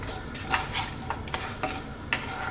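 Mustard seeds and whole spices frying in hot oil for a lamb curry, a dense constant sizzle with repeated spatula scrapes against the pan, close and fairly loud.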